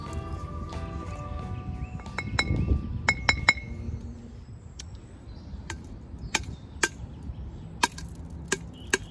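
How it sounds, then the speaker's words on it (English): A hammer stone strikes the bottom of a glass bottle to break it for knapping: dull knocks and a cluster of bright glassy clinks come first, then a series of single sharp glass taps spaced about a second apart, close and clear. "I'm just gonna hit it with a hammer stone and break it."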